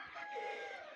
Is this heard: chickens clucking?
yes